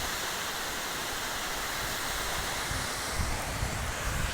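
A waterfall pours down continuously in a dense, even roar, close by and steady throughout, with no voices.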